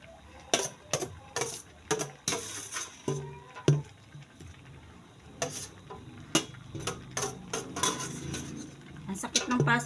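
Utensil stirring mixed vegetables including bottle gourd in a cooking pot, with repeated scraping and clanking strikes against the metal in an uneven rhythm, loud and close throughout.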